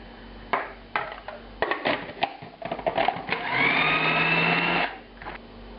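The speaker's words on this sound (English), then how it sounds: "I'm going to give this a little grind first." A food processor grinds ground veal with egg yolk, starting with several short pulsed bursts and clatters, then a sustained whirring motor run before cutting off, loud and close with no talking.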